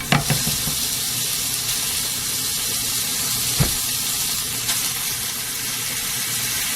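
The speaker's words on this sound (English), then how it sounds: "so still browning the ground beef" Ground beef browns in a pan over high heat, giving a loud, constant close-up sizzle broken by a few sharp clinks and scrapes of stirring; no one speaks.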